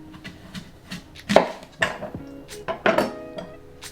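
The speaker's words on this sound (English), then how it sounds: "take this apple and you're going to want to cut it at a diagonal" Knife slicing diagonally through an apple, a series of sharp crunchy cuts and knocks on a cutting board, close and fairly loud with no talking.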